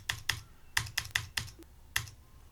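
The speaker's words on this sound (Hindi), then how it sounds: "और एंटर प्रेस करेंगे," Computer keys clack in a quick, uneven burst of about seven crisp taps close by, in accounting software, with a quiet gap and one final sharp press at the end.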